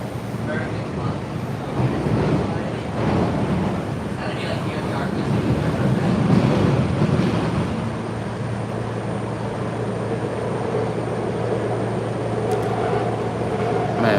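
A train crosses the Ben Franklin Bridge between Philadelphia and Camden, giving a steady loud rumble and rattle of wheels and carriage heard from on board, with a low hum throughout.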